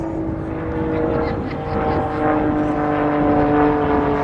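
An aerobatic propeller plane flies a wing over at the Battle of Britain Air Show at Duxford, its engine drone droning steadily and swelling slightly as it pitches and rolls in the distance, with a commentator speaking over it.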